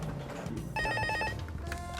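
Office desk telephones ringing in a busy public agency office, a bright electronic trill bursting in clearly for about half a second amid background room noise.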